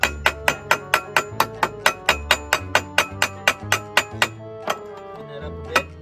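A hammer chips slag off a fresh weld in rapid, sharp metallic taps, about twenty close strikes in a fast rhythm before a few slower final knocks.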